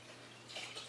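Freshly distilled water trickling into a mason jar, a soft, brief splashing stream with a faint hum underneath, quiet and close.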